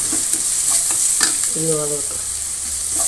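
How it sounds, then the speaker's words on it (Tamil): Garlic fries with fennel and onion in a pan for a drumstick stir-fry, giving a steady close sizzle with light stirring scrapes and a brief hum of a voice partway through. "அடுத்த பூண்டு ஆட் பண்ணிடலாம்."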